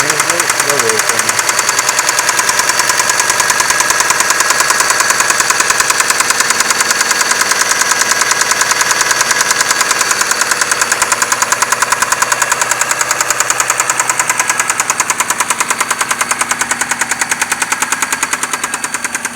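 A Mitsubishi 6A13 engine idles with a steady, rapid knocking from between the cylinder heads, loud and close, ticking continuously without pause.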